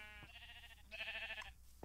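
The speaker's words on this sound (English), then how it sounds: "Don't understand why we almost got trampled by a horse there." A horse in Minecraft, a video game, gives a couple of short whinnying, bleat-like calls, fairly faint against a low background hum, with a soft thud near the end.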